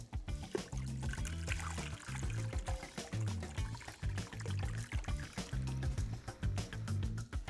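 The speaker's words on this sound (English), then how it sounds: "Now pour the remaining brine over the pork loin." Brine poured over a pork loin for bacon, a continuous gurgling liquid stream running steadily for several seconds, fairly close and moderately quiet.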